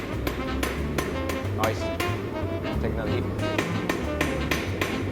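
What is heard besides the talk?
blacksmith hammering hot metal to forge an arrowhead socket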